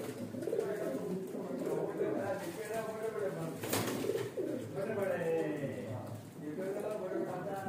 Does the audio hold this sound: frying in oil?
no